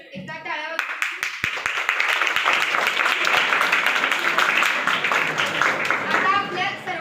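Audience claps warmly after a group sings a devotional abhang at a school gathering, a short speech line first, then dense, steady clapping building and holding to the end.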